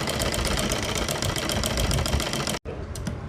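An electric sewing machine stitches the fabric of a boat-neck kurti with a fast, steady mechanical whirr that cuts out for a split second near the end, then starts again.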